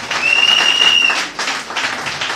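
Church congregation breaking into loud, dense applause to acclaim the Lord, a close burst of many hands clapping that dips briefly and surges again, with a sustained high tone through the first half.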